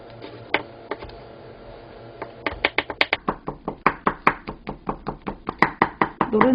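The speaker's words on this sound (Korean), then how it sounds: "비벼 써는 것보다 이렇게 눌러 썰면 지단이 그 자리에 가만히 있습니다" A knife press-cuts a thin Korean egg garnish (jidan) into fine strips on a cutting board, giving a steady run of crisp, close knocks that start sparse and then speed into an even rhythm.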